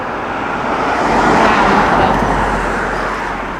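A car passes close by on a busy road, its tyre and engine roar swelling to a peak and then fading away as it drives past.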